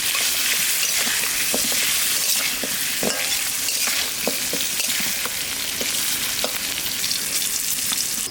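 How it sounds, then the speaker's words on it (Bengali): Potatoes fry in a pan with salt, turmeric and chili powder, a loud, dense, continuous sizzle up close, with regular scraping stirs and spatula taps punctuating it. "আলুতে একটু লবণ আর হলুদটা দিয়ে একটু ভেজে নেব"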